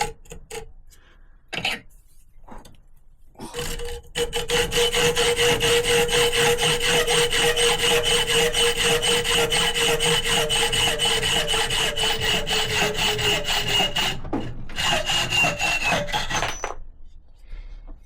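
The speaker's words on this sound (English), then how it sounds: "I'm going to put my goggles down for the hacksaw." A hacksaw cuts through a bolt during a wood chipper repair, steady back-and-forth strokes rasping loudly and evenly for about ten seconds after a few short starting strokes, then stopping.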